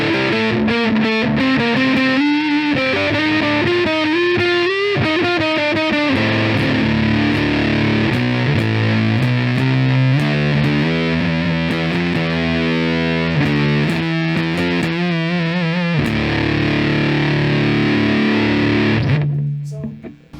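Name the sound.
electric guitar through silicon Fuzz Face pedal, fuzz fully up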